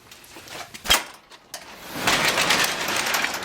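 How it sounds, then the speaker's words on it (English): A door is opened: a sharp latch click, another knock a moment later, then the door swings open and a broad hiss of outside air rises and continues. "I'm going to open this door here"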